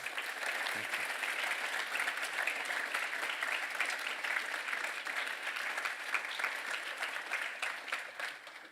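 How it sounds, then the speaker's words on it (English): Dense, even applause from an audience at a talk on Christians engaging in politics, a continuous wash of many hands clapping for about nine seconds at moderate distance, fading slightly at the end with no speech. "Could we give another round of applause for him?"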